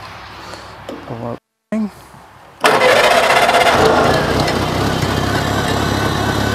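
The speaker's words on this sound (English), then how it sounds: "See if the tractor will even start." A voice speaks briefly, then a Farmall Cub tractor engine, idle for two weeks, cranks and roars to life in neutral, settling into a loud, steady running rumble up close.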